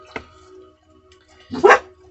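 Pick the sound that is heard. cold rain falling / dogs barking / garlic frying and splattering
dogs barking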